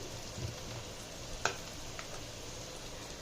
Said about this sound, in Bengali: এই পেঁয়াজ ভাজছি